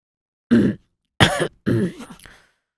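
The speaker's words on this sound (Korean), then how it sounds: "아버님은 민망하셨는지 괜한 헛기침과 함께 시선을 다른 곳으로 돌리셨습니다." Three short throat-clearing bursts, close and fairly loud, separated by brief pauses, the last one rougher and trailing off.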